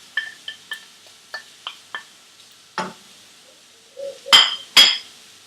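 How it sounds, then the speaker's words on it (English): Onions and garlic frying in a pan, stirred with a wooden utensil: a run of light, evenly spaced taps and clinks, then a few louder, sharper knocks close by over a quiet background. "Now lightly fry the onions and the garlic until the onion starts to go slightly brown"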